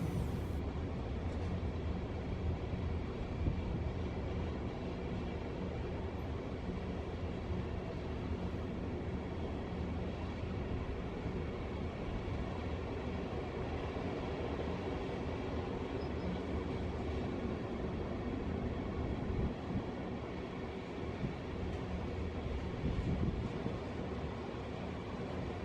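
A very long Sishen-Saldanha iron ore freight train rolls steadily past, slowing before a tunnel, giving a continuous loud rumble and clatter of wagons on rails that holds unbroken throughout with no voices.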